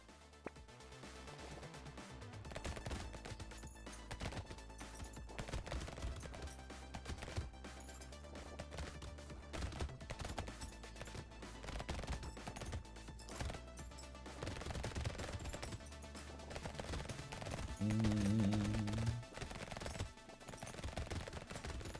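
Rapid automatic SMG fire from the Brotato video game crackles continuously over layered game music and effects, steady and dense throughout with a louder burst near the end.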